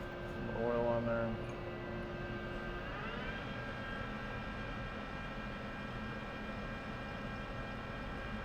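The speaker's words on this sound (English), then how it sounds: "So I've increased the speed of the spindle here about 200, maybe 250 RPM." CNC lathe spindle turning and cutting a metal rotor, a steady machine whine whose tones shift upward as the spindle speeds up, over a constant mechanical hum.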